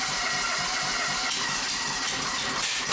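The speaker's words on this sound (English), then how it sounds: "That's a running engine." A 1997 Argo Conquest engine runs with a leaking exhaust manifold, making a steady loud hissing, chattering drone with a fast rhythmic pulsing underneath and no talking.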